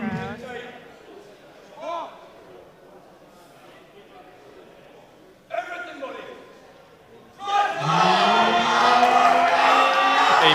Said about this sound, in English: You can hear his teammates supporting him in the crowd.